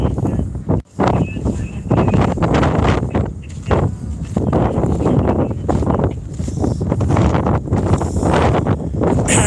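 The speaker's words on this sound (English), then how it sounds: "The wind has gone back to the northwest." Strong wind gusting through Joshua trees as a wildfire burns nearby, a loud, continuous roar with buffeting against the microphone throughout.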